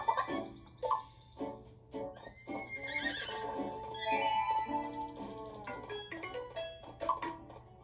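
Horse neighs in the video game Miitopia, a clear whinny repeated in bursts over light game music and chiming effects, fairly quiet overall.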